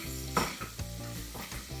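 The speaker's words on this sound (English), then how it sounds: "Stir that up together." Seasoning cube stirred into yam pottage in a pot, a soft sizzle beneath several quick spoon scrapes and light knocks against the pot, close and alone.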